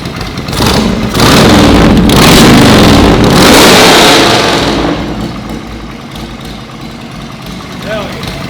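A rebuilt Harley motorcycle engine, brought back from a totaled state, revs hard and close for several seconds, then settles into a rough, steady idle.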